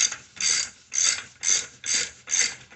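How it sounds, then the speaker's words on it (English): Hand ratchet with a socket loosening the nut on a Mercedes rear ball joint, giving six quick bursts of close, loud clicking in a steady back-and-forth rhythm with no talk. "you're going to finish it using this socket"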